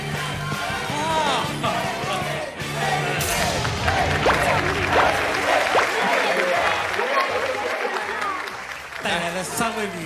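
Audience applause and cheering greet a singer and three female guests as they walk on stage, with dense clapping and crowd noise lasting throughout while voices and music-like tones run underneath.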